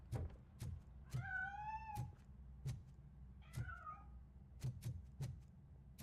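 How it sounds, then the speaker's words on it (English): Cat meows heard in RoboCop: Rogue City, two drawn-out, wavering cries set against a steady low rumble and a series of soft thumping footfalls. "That cat must be hiding inside."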